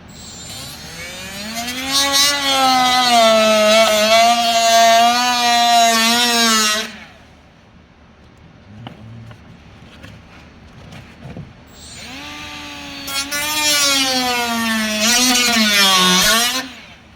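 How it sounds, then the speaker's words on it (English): A loud, whining die grinder with a large cutoff wheel cuts plastic Mercedes E350 door speaker housings in two long bursts, its pitch wavering as it cuts, with a quieter pause between them. "I'm using like a big cutoff wheel on a die grinder."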